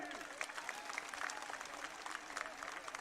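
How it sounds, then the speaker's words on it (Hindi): A crowd at an election rally claps in a faint, distant, continuous patter that stays steady throughout, with no talking over it. "बजाओ ताली।"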